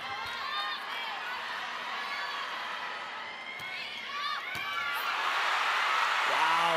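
Volleyball crowd at the 2022 PVL Invitational Conference final cheering after a Creamline scoring run, a broad roar of whoops and shouts that builds steadily louder toward the end, with sneaker squeaks from the court.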